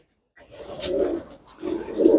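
A pigeon being shown for sale coos close by, two soft throaty bursts of cooing separated by a short pause, with no talk over it.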